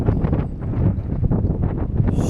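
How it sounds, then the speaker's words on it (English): Cold wind at sea buffets the microphone on a small fishing boat in Caernarfon Bay off Anglesey. The gusts come as a low, uneven rumble with no voices. "It is freezing today. This wind is cold."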